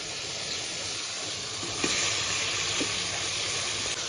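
Eggs and potatoes frying in spice paste for a country-style desi chicken-egg curry, a steady close sizzle and hiss with a couple of soft stirring scrapes, no voices.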